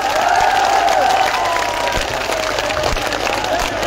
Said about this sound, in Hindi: यहां मौजूद एक एक आदमी हाथ उठा करके ताली बजा के मुझे समर्थन दे।